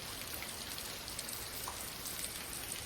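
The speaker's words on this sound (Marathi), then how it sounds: "पाऊस तर खूप पडतो आहे" Heavy rain falls at an ancient rock-cut cave, making a continuous, even hiss with scattered drop patter. The sound is fairly faint and steady throughout, with no voices.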